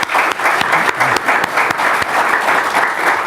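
A Baptist church congregation at an anniversary afternoon service claps for its long-serving ministers, loud sustained applause from a full room with a few sharp individual claps standing out.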